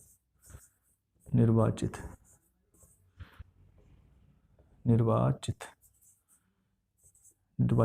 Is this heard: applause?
no